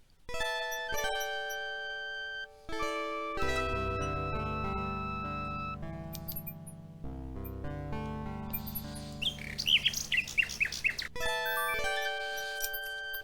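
Bright electronic chimes and twittering birdlike trills from a nightingale singing in the video game King's Quest 6, a melodic phrase of bell-like notes giving way to rapid fluttering chirps, steady and clear with no voices.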